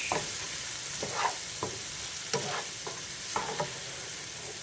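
Chopped onions sizzle in a pan of hot oil for a pea and mushroom curry, a steady soft frying hiss broken by several scraping stirs of a spoon at irregular intervals.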